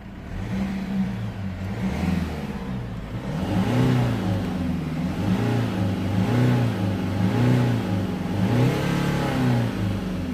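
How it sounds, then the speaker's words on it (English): A Mercedes C220 CDI diesel engine with fault code P2454, a warning light and limp mode is revved repeatedly, with a steady engine drone rising and falling in smooth waves, close and loud with no talking. "the car now is revving past 3000 RPMs, which was not doing before"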